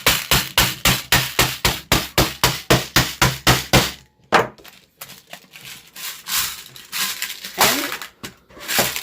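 A homemade DIY noise maker is whacked in a fast, steady series of about twenty loud, sharp knocks, then struck more loosely and irregularly with scraping, rattling hits.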